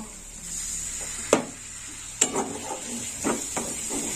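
Masala with turmeric powder sautéing in a pan for a brinjal and cabbage curry: a soft, steady sizzle broken by a few sharp spoon knocks and scrapes against the pan, no voices.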